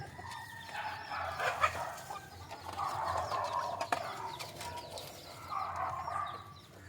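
Backyard chickens fed papaya and drumstick leaves, with soft clucks and bird calls rising and falling across the whole stretch over a low ambient hum, moderately close and fairly quiet.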